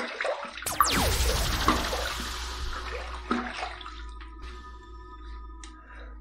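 Water splashes and runs into a bathroom sink as a face is wetted before a shave, a close burst of pouring and dripping that fades into quieter trickles and faint clinks.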